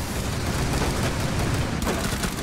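Dense, continuous gunfire crackles through the whole stretch in Rainbow Six Siege, a steady loud barrage with no clear gaps between shots and no voices over it.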